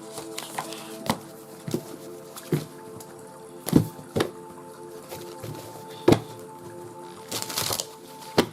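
Cards being handled and put back make a run of light taps, flicks and soft slaps at irregular intervals, fairly close and otherwise quiet, with no talking.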